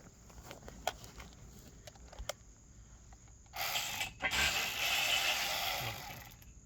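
A socket ratchet wrench works on a dump trailer, a few faint clicks and clanks followed by a louder burst of rapid ratcheting and rattling metal, close by and outdoors.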